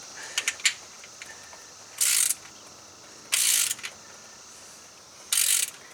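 Ratchet wrench tightens bolts on a 1978 GMC engine during a rebuild, with three short bursts of fast clicking and a few light metal taps between them, close up in a quiet space.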